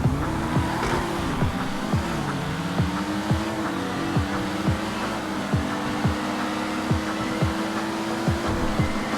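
Two GTA Online sports cars, one of them the Pariah, race side by side, engines droning steadily with rising and falling pitch sweeps as they pass, plus repeated short tire or bump thumps throughout, loud and close with no talking.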